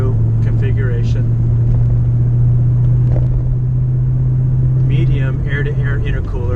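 A supercharged Ford Mustang with a manual transmission, centrifugal blower at 8 pounds of boost and 42-pound injectors idles with a steady, loud low rumble while someone talks over it.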